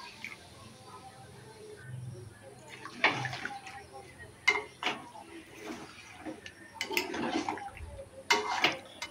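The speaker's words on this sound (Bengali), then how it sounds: "তো চলো জল দিয়ে দিই।" Water splashes into mutton browning in a cooking pan, in uneven gushing bursts with scattered clinks of utensils against the pan and a low background hum.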